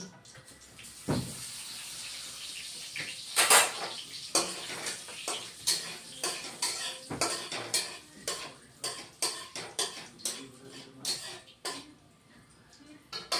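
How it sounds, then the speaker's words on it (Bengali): Black cumin seeds tempering in hot oil for a thin fish curry, a steady crackling sizzle with scattered pops and clinks of utensils, heard close under occasional speech. "কালো জিরা ফোড়ন দিচ্ছি"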